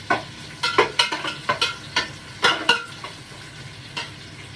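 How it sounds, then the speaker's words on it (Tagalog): Onion sizzling in a very hot pan over high heat for pancit, with a steady fry hiss broken by repeated close scraping stirs of a utensil, no talk. "Dahil mainit, malakas yung apoy. Sunod ang sibuyas."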